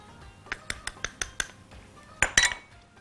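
A metal sieve is tapped while sifting flour and baking powder, giving a series of sharp, evenly spaced metallic clinks followed by a pair of louder rattling knocks, close and clear in a quiet kitchen.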